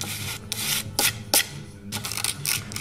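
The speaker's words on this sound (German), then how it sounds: "Also wenn es mit der Maschine Lackoberflächen schleift" A sanding machine works a lacquered surface in bursts of rough rubbing and scraping, several short passes separated by brief pauses, close and fairly loud.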